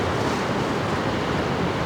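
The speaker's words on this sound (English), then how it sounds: "the streaks in the water as it's flowing down" Water rushes steadily down a river gorge at the Punchbowl on the Mar Lodge Estate, a dense, continuous roar of flowing water with no pauses, close and fairly loud throughout.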